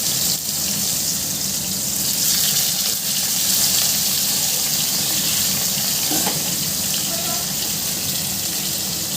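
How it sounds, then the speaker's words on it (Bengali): Water gushes out in a loud, steady rushing stream, like a tap running hard into a sink, continuing without a break and with no talk. "জল বেরিয়ে গেছে।"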